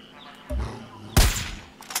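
Two sharp gunshot bursts in Far Cry 6 on PS5, the second louder and crisper, cracking out in quick succession.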